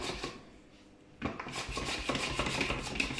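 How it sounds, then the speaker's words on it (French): Bacon bits and onion are spooned in layers into a tartiflette dish, a quiet pause followed by close scraping and light clinks of utensil on dish, with no talking. "On met sa couche de lardon, sa couche d'oignon."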